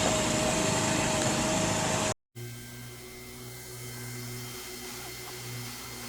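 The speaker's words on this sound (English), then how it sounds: "So here we can see hand welding taking place." A hand-held hot air welder fuses a roofing membrane seam, giving a steady blower hiss and hum with a brief dropout partway through, after which a quieter tonal drone continues.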